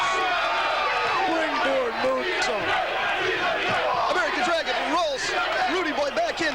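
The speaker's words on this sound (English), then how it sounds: "The crowd roars its approval." A wrestling crowd at a Texas Wrestling Academy show roars loudly and continuously after a springboard moonsault, a dense wall of shouting voices with excited yells rising and falling throughout.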